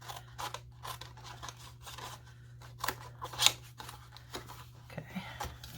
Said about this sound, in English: I'm just going to cut all the way, cut the corners right from the corner to the corner.